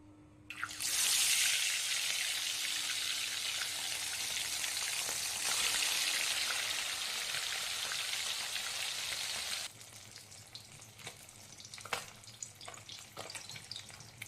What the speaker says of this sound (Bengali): এইভাবে আমি সব কটা মাছ ভেজে নেব।